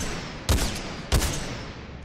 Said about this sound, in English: So it is a twin fire sniper rifle. So it shoots two bullets essentially.